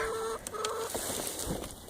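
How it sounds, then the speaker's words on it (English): A rooster gives a few close clucks, short throaty calls standing out over a faint outdoor background. "But this rooster here, he is, he's beautiful."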